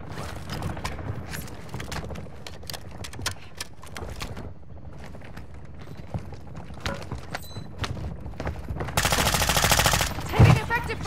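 Scattered gunshots and bursts of fire in a Call of Duty game crack over a quieter battlefield bed. Sharp transients repeat irregularly, then a louder, denser stretch of firing and noise builds near the end.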